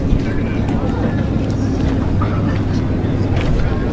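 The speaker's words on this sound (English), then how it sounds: "Flying Ebony here, owned by Gus Harris, a 1940 Morris Boatworks racer, 29 feet in length, and powered by a BPM engine, 750 horsepower" A 1940 Morris Boatworks racer motorboat, 29 feet long with a 750-horsepower 12-cylinder engine, rumbles steadily and loudly on the water, with wind buffeting and a voice talking over it.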